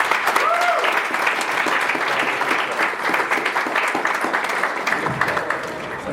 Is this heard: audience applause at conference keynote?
yes